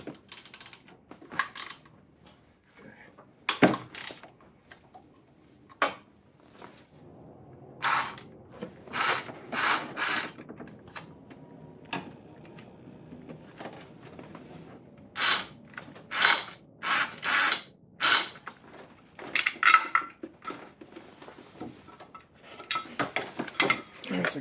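Bolts being removed from the cam cover of a 2008 Acura MDX engine during cylinder head removal, with sparse metallic clicks, ratcheting and clinks of tools scattered across a quiet background.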